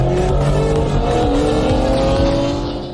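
A BMW E30 Touring car engine revs and pulls away, a loud, steady motor drone with rising tones that starts to fade near the end.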